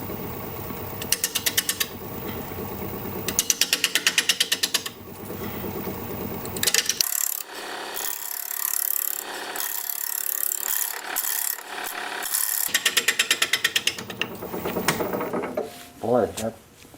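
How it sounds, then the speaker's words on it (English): A wood lathe spins a sycamore blank, its spindle giving off a rapid rhythmic knocking rasp in repeated bursts, broken by scraping tool contact and a short stretch of talk near the end. "You can hear my spindle making noise again."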